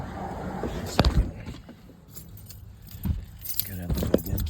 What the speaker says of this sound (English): Gotta have the goddamn keys with me.